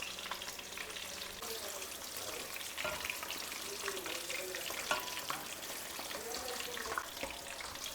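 Finely chopped vegetables fry in coconut oil to brown, giving a dense, steady sizzle close by with occasional clinks and stirring, without a break.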